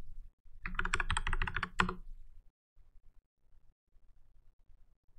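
A quick flurry of keystrokes on a computer keyboard types a Linux terminal command, a dense close run of clicks lasting a second or so, then a few faint soft taps.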